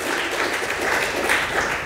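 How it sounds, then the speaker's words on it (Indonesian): A church congregation at a Pentecost service applauds, a brief steady wash of many hands clapping at moderate level. "Kasih tepuk tangan yang meriah untuk Tuhan."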